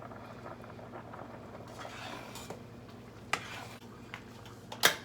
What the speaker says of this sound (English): I just want it to kind of simmer.